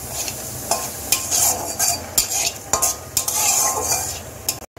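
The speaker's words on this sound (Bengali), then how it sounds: "জিরাটা ভেজে নিচ্ছি।" Whole white cumin seeds frying in hot mustard oil, a crackling sizzle punctuated by repeated quick scrapes and clicks of a spoon stirring in the pan, close and fairly loud, cutting off abruptly at the end.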